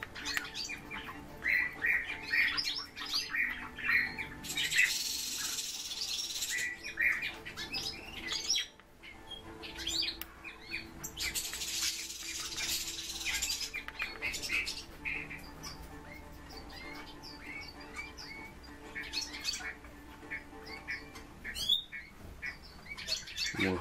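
A pet golden oriole chirps and squawks close by in repeated bright bursts, with a few harsh louder squawks in between.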